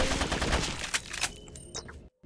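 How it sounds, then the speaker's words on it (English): Rapid assault rifle gunfire in the video game GRAV, a dense burst of loud, fast shots that tapers off and cuts out near the end. "Assault rifle."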